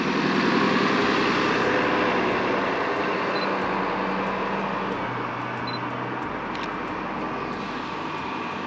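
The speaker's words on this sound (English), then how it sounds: "Let this bus pass." A bus or trolley rolls along a city street with a steady low engine rumble and broad road noise, loud and close throughout, gradually easing as it passes by.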